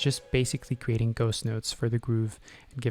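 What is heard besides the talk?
No everyday noise stands out behind the speech.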